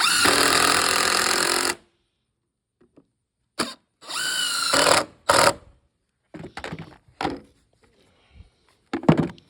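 A power drill drives the last screws into deck boards, starting with one long steady whir, then short, loud, whining bursts separated by silent pauses.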